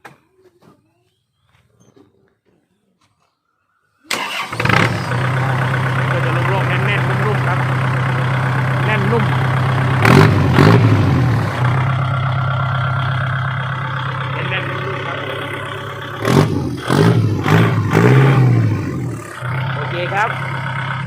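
A modified Kubota L5018 farm tractor engine fitted with a mid-tone exhaust, starting after a few seconds of near silence and then running loudly and steadily, with sharp revs blipping up around the middle and again near the end.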